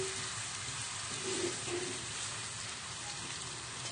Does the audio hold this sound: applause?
no